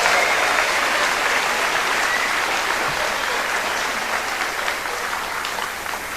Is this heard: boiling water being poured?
no